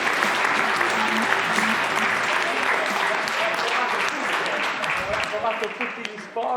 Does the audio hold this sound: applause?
yes